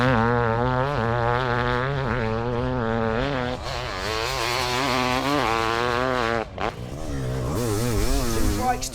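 A Yamaha YZ500 two-stroke motocross bike rides a fast lap, its engine revving up and down in rising and falling pitch sweeps, loud and close from on board, with a brief drop near the end.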